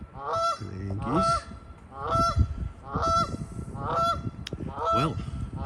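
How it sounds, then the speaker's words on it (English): A flock of Canada geese honks repeatedly at close range, loud nasal calls overlapping in irregular bursts with short pauses between them, out in the open. "Canadian geese."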